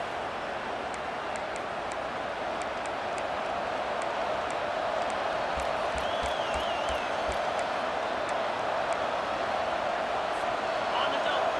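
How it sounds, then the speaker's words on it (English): A stadium crowd roars in EA Sports College Football 25, a steady, dense wall of cheering noise that holds at a constant level throughout. "This crowd, full throat, splitting the eardrums"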